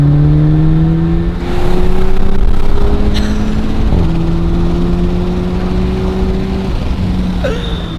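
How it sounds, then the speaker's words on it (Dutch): A Volkswagen Polo GTI drives off as its engine rises and falls in pitch through the gears, loud and close, with the droning tone shifting steadily upward over several seconds. "En dan nu het leukst, dat is natuurlijk het droogrijden van de auto."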